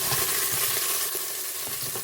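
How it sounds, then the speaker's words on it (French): Fish pieces frying in fat for paella, a quiet, steady sizzle and crackle with faint stirring sounds, close by and continuous. "Vous le faites revenir dans la matière grasse"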